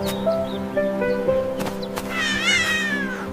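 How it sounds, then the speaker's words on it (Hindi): A cartoon cat meows in a 3D animated children's scene on the way to school, with a drawn-out, rising-and-falling meow over a steady musical backing with tonal notes and soft effects. "ये मेरी प्यारी बिल्ली सूजी है"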